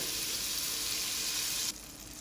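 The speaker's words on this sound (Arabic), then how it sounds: "الخطوة الثانية بعد ما كملنا السمسم راح نضيف الزبد" Butter melts with toasted sesame seeds in a pan, giving a loud, steady close-up sizzle that drops abruptly to a softer hiss near the end.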